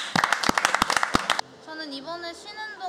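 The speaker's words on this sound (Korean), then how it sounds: "어이구 박수" A quick burst of dense clapping for roughly a second and a half on a Korean office-themed streaming show, then it stops abruptly and people start talking.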